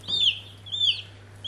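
Young chickens on a smallholding give high, thin peeping calls, three short chirps spaced about half a second apart, close and clear over a low steady hum, with no talking.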